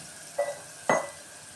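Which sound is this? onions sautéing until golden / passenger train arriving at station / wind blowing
onions sautéing until golden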